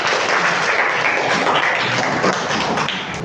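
A classroom of students breaks into steady, dense applause, loud and close, with scattered taps and thumps mixed in; no clear speech over it.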